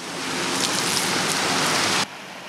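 Water from a city fountain splashes steadily in a dense, hissing spray, loud and close, then drops abruptly to a fainter wash near the end.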